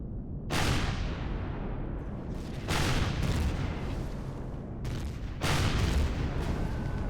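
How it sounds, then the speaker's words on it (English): Sustained gunfire from an aircraft strafing run against Zirax defense towers in the sci-fi survival game Empyrion Galactic Survival, heard as three long, loud, roaring bursts of continuous fire separated by brief lulls. "I'm kind of inclined to go for another strafing run"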